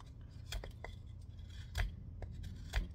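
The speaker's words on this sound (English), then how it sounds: "Yes, you can carve with a serrated blade." A Leatherman serrated blade carves into wood in short scraping strokes, a few louder rasps standing out against quiet background noise, with no talk.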